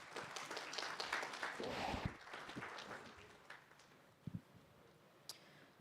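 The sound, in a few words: audience applause at judicial conference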